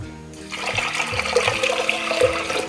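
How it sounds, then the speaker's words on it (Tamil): Water pours steadily and close onto washed rice and lentils in a pot for ven pongal, about four tumblers to one cup of rice, a continuous splashing gush with no talk. "1 கப்பு அரிசிக்கு 4 டம்ளர் தண்ணீர் ஊற்றணும் நம்ம."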